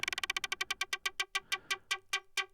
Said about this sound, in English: It's kind of a classic sawtooth, but then with a bit of FM,